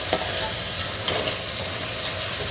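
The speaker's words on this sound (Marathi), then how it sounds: "हे तांदूळसुद्धा आपल्याला छान परतून घ्यायचे आहे. इथे मी गॅस मोठा केलेला आहे" Rice stir-fried in a pan over a high flame for Maharashtrian masale bhat, a steady close sizzle with scraping stirs and a couple of sharper clinks, no talking.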